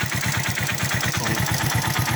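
A motorcycle engine idles steadily close by, running with its three-phase stator coil wires disconnected for testing. It makes an even, rapid low throb that stays constant throughout, with no voices.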